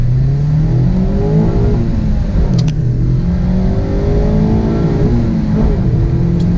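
A Mazda Miata ND with the 2.0-litre engine accelerates hard, heard from inside the car: a loud, steady engine note rising in pitch through the revs, easing briefly at a gear change and then climbing again.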